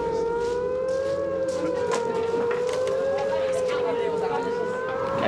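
Rocket attack warning siren at Kandahar airfield at nightfall, a loud, steady wailing tone slowly wavering in pitch throughout, heard from a distance across the open base with faint background noise.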